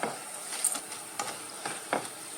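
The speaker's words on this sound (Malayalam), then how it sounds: "ഇതാ ഇതുപോലെ നമുക്ക് എല്ലാം ഒന്ന് വറുത്ത് കോരിയെടുക്കാം." Kerala spicy mixture snack being deep fried in hot oil, with soft steady sizzling, close and fairly quiet, broken by a few brief stirring and scooping scrapes.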